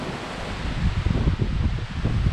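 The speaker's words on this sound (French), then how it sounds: "On va s'abriter du vent parce que c'est la tempête sur Vouglans." Strong gusty wind from a storm on Lake Vouglans, France, roars and buffets continuously, with rough rustling bursts, loud and close, nothing else heard.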